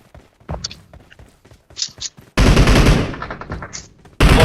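UMP submachine gun bursts ring out in a video game, sparse clicks and thuds first, then a sustained loud rattling burst, a pause, and another burst starting at the very end.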